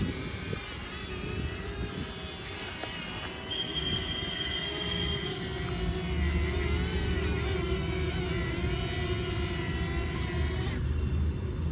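A small DJI Flip camera drone hums and whines steadily at close range, its buzzing pitch holding level throughout with no talking.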